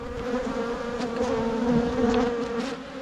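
Honey bees drone steadily at an open beehive during an inspection, a dense close buzzing chorus with sustained tones that swells slightly midway and continues unbroken.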